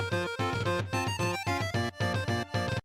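King K. Rool's pirate-flavored video game theme, as heard in Smash Bros., plays loud and up front: dense, brassy chord stabs repeat in a steady marching pulse with brief gaps between phrases, with no voices over it, before cutting off abruptly.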